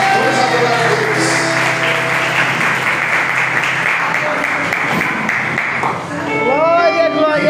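A church congregation applauds in worship, a dense steady clapping that runs loud for about six seconds beneath a preacher's voice and music, then someone speaks clearly as the clapping thins.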